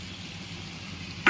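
Washed flattened rice (chira) with nuts is stirred in a pan, a soft, steady low scraping and faint sizzle that ends in a brief, sharp clink of the utensil.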